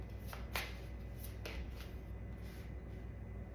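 Tarot cards riffle and slap in a few quick, soft bursts, followed by a quieter stretch of faint handling against a steady low background hum.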